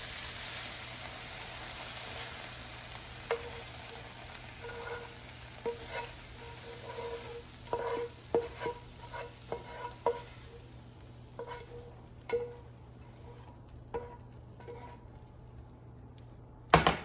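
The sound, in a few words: hibachi vegetables sizzling in a frying pan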